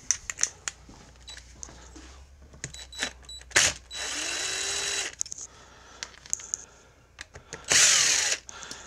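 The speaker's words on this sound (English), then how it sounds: "We have power tools for a reason." A power drill removes screws from the carburetor of a 2003 Honda Shadow Spirit 750 motorcycle, whirring in several short bursts and two longer runs, with clicks and handling noises between them.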